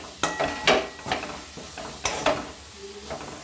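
Liquid jaggery being mixed into a homemade chyawanprash mixture, with repeated close, sticky scraping strokes of a spoon in a pan over a soft background sizzle.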